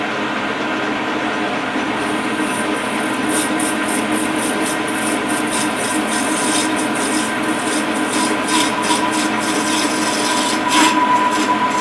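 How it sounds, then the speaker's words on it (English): Metal being deburred by hand at the edge of a freshly drilled bore in a machine shop, a steady close scraping and rasping that runs throughout with brief brighter scratchy strokes, and no voices. "we want to go ahead and deburr a little bit"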